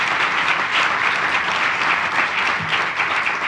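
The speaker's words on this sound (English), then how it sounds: "So let's clap again for 40 years" An audience at a lecture in an anniversary morning session claps steadily, a dense, even wash of applause that stays loud and continuous throughout, with no voices standing out.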